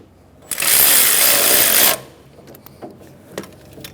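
A 12mm nut beneath the alternator pulley of a 1994-1997 Honda Accord 2.2L being loosened with a power tool, one loud close buzzing whir of about a second and a half, then a few faint clicks and knocks.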